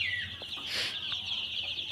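Young Sonali chicks in a poultry pen give soft, high chirping clucks, a few brief calls close by over a quiet background.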